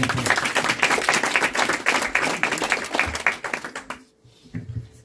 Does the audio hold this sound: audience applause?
yes